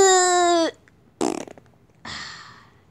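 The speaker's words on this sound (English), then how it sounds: "And I'm gonna fart in your face." A loud, close fart from a toy play skit, a long buzzy tone followed by two shorter sputtering bursts, with no talk over it.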